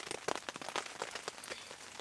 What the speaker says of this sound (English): the rain is off and on. Sometimes it's actually quite heavy.